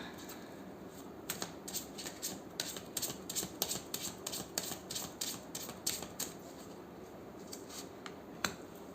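Tarot cards being shuffled by hand in a quiet room, giving a soft run of crisp, irregular card flicks and riffles close by.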